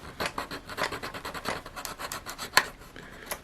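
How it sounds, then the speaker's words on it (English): A file rasps back and forth over the plastic of a Hornby model coach coupling in quick, close strokes, roughly a dozen in a row, with one sharper scrape near the end. "Get a file, just go along and tidy up."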